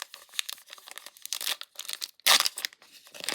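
Foil wrapper of a 2025 Allen & Ginter trading card pack being torn open, a run of light crinkling rips capped by one sharp, loud tear, close up with no talking.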